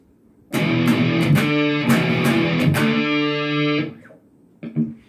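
Distorted electric guitar plays the chorus of a song, alternating hard-picked single notes with chord stabs in a loud, driving burst. The burst cuts off after about three seconds and is followed by a couple of faint scrapes.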